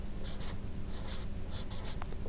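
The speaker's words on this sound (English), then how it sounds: "Let's write it out." A pen scratches out a letter puzzle by hand in short bursts of strokes, a few quick scribbles with pauses between, close up over a steady background hum.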